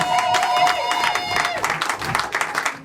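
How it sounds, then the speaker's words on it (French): A church congregation claps for Jesus, a dense patter of applause that rises and thins, with a voice carrying over it. "Applaudiert für Jesus Christus."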